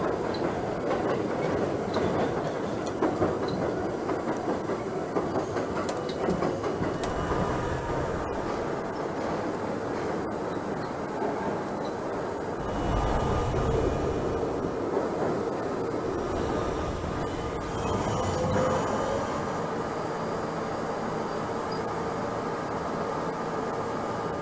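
NYCT J subway train running on the Myrtle viaduct in Trainz Simulator 2012, a continuous moderate rumble of wheels and motors with faint clickety-clack and a brief swell midway, no voices.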